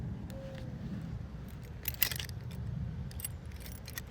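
A bunch of keys drops and jangles in a short metallic burst of rattling, midway through, over a low background rumble.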